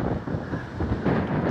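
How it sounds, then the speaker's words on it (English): Strong wind roars across the microphone outdoors by the P&J Live arena in Aberdeen, Scotland, in rough, surging gusts, dipping briefly then swelling louder again. "Very, very windy."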